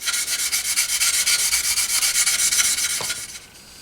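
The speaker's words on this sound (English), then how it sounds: "This is a finer sanding sponge, so go back over it again, polish it out" Fast rhythmic rubbing strokes of a fine sanding sponge on a plastic scale model seam, a bright scratchy sanding sound repeating close up, then slowing and fading at the end.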